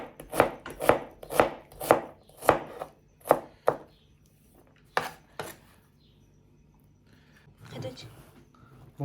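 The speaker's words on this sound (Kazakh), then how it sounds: "Осылай жуамызды ұсақтап турап аламыз." Knife finely chopping onion on a board: a quick run of about eight sharp, close chops, then a pause, a couple more cuts and a soft scrape at the end; a voice talks faintly in the background.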